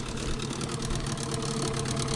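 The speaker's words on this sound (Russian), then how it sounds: "Обкатка 10 часов надо просто кататься на малых оборотах." A new Mikatsu 9.8 two-stroke outboard motor idles at low revs during break-in on a river, giving a steady, loud, continuous drone with a faint rapid pulsing throughout.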